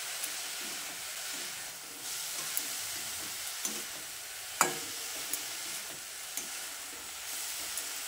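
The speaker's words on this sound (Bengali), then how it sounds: "পালং শাকটা দিয়েও বিটের সঙ্গে ভালো করে মিশিয়ে নিচ্ছি।" Finely chopped spinach being stirred into beetroot in a pan, a soft, steady sizzle and hiss with a few light scrapes and taps of the spoon, one sharper knock near the middle.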